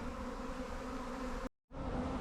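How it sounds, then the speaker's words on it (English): A honeybee swarm hums steadily around a hive box, a dense and continuous buzz that drops out briefly for a split second before resuming. "There seems to be a lot of activity now of the bees going into the box"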